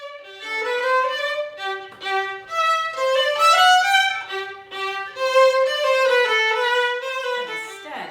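Violin played with a clear, sustained good tone, a flowing melody of smooth bowed notes with steady rich harmonics, close and alone without talk.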